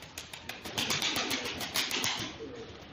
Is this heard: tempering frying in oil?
no